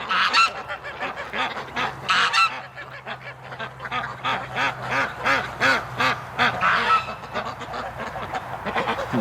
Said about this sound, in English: there's a real mixed mash of ducks here